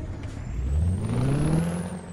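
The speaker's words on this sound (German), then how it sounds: "Ihr seht, der Retarder, der klingt richtig brutal." A Mack Titan Superliner truck in American Truck Simulator brakes hard on its retarder, giving a loud, sustained low roar whose pitch slides steadily downward over about two seconds, with no talk over it.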